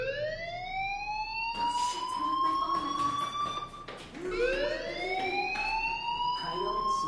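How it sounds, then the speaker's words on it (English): A fire alarm wails in a rising, repeating siren sweep inside the video game Life is Strange, loud and continuous across the scene, with faint background noise beneath it. "do you hear that fire alarm?"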